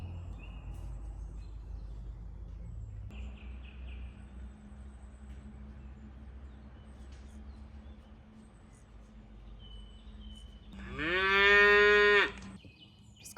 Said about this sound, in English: I have a feeling this isn't over with the cows